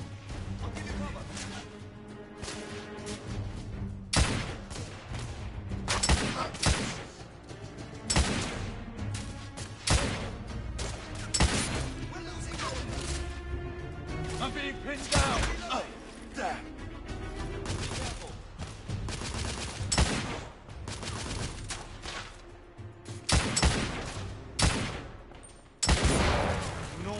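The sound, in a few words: gunfire in video game The Order 1886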